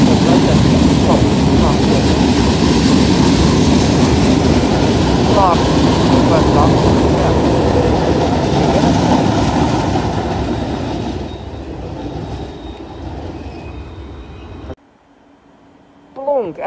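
A passenger train pulls into Den Haag Centraal station, a loud, steady rumble of wheels and carriages that fades as it slows and stops, with a brief squeal at the end.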